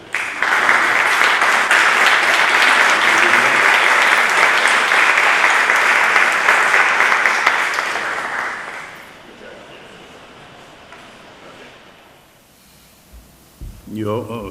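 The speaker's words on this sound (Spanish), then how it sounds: "Un aplauso." A crowd applauds loudly for about eight seconds at a cultural association's magazine presentation, the clapping fading away before a voice begins speaking near the end.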